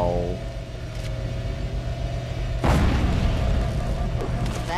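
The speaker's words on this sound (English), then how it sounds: "The pulse generator overloaded." In Halo CE, a pulse generator overloads in a heavy rumbling explosion that builds from a low droning hum into a loud, sustained burst of crackling energy and booming noise.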